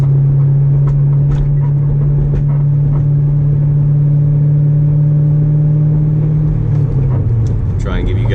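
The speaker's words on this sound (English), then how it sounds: "This is just going through the gears really smooth." C6 Corvette with an SLP exhaust cruising smoothly through the gears, a loud steady engine drone that holds its pitch, then shifts and drops near the end, heard from close inside the car.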